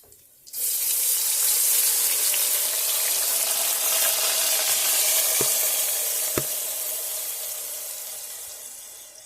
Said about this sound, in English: Now, I'm going to add the seafood.